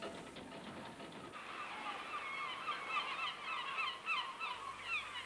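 Gannets calling around a fishing trawler at sea, a faint cluster of harsh, overlapping honking cries repeating irregularly over a low mechanical rumble.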